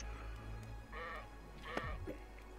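Sheep in the video game Craftopia bleat twice in close succession, each cry a wavering, nasal call over a low steady background hum.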